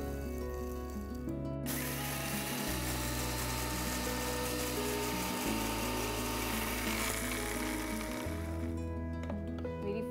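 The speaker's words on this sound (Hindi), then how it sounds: "अब हम इसे मिक्सर ग्राइंडर में ग्राइंड कर" A mixer grinder grinds roasted fennel and fenugreek seeds, a loud, steady electric whir with rattling seeds. The motor pitch shifts in several steps as the load changes, and the noise runs throughout.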